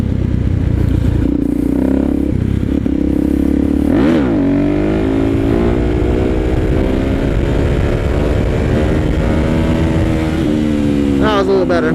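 A motorcycle engine revs hard during a clutch-up wheelie, a loud rising and falling roar with sharp throttle blips, close by, with a voice speaking over parts of it.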